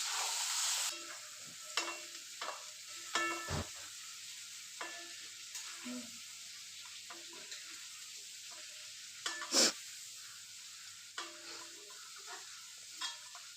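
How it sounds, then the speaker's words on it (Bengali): Chicken pieces fry lightly in hot oil for a curry, giving a steady close sizzle broken by scattered clinks and stirring scrapes, with no talk. "সেই তেলে করে আমি মাংসটাকে ফ্রাই করে নেব হালকা"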